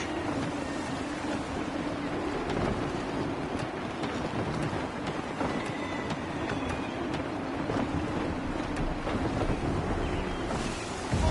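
Steady wind and sea wash around a sailing ship in the game Assassin's Creed III, a continuous broadband rush with a low rumbling hum underneath and no distinct gusts standing out, with no voices present.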